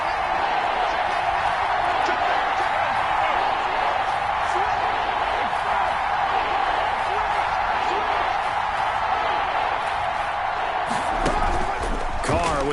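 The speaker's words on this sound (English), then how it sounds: "Crowd getting in it a bit already." A stadium crowd in a PS4 football game keeps up a steady, dense roar of cheering behind continuous play-by-play commentary.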